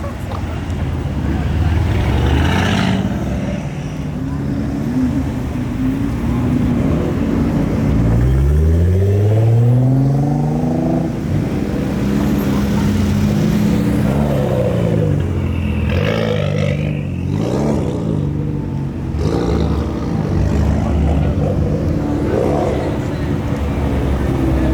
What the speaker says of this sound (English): Team Savage guys rolling up. Pro Charge Stingray.